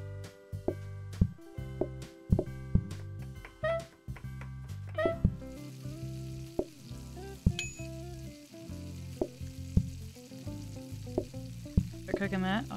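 Soup cooking on a hob in the video game PlateUp!, with a steady sizzle, stirring noises and clinking kitchen effects among plucky game music, moderately loud.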